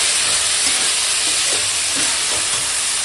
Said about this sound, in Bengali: দিয়ে রাখা মোচা এবার কষাচ্ছি, কষাতে কষাতে এই যে তলা এরকম লেগে যাচ্ছে